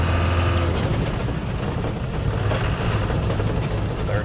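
Steady low engine drone and rumble from a 1991 Land Rover Defender 110 high-capacity pickup as it reverses, continuous and fairly loud throughout with no distinct breaks.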